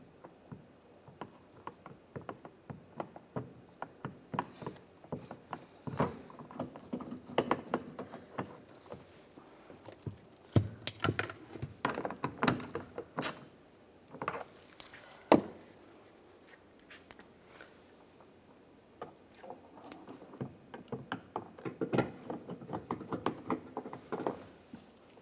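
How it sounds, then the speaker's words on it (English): Screws being ratcheted back into a tail light on a 2015-2019 Lincoln MKC, with quick, close clicking bursts in several separate runs and short pauses between them, and no talking. "And put these screws back in."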